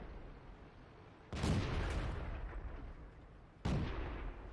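Artillery fire in World of Tanks, two heavy booming blasts a couple of seconds apart, each loud with a rumbling decay over a steady engine drone.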